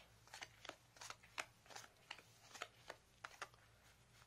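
Playing cards being handled and laid out in a pattern for a beginner elimination card trick, giving soft, close, quick papery snaps and flicks in an irregular run of about a dozen light strikes over a low hum.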